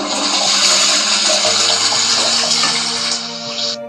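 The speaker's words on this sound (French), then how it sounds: "le son inattendu de la chasse d'eau a brisé le silence" A toilet flushes loudly up close, a rushing swirl of water that holds steady for a few seconds and then cuts off.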